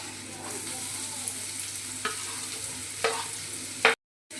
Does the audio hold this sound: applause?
no